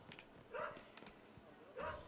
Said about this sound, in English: I wish that dog would just shut up.